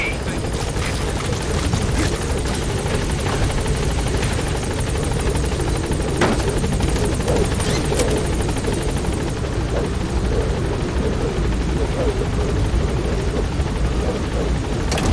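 Helicopter support chopper landing at a landing zone in the video game Metal Gear Solid 5, a steady loud rotor drone and engine whine that holds throughout, with radio-style game voices over it.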